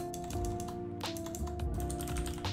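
Computer keyboard typing code, a quick run of clattering keystrokes in short bursts with brief pauses, close and fairly quiet, no speech.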